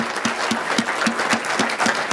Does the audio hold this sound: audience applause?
yes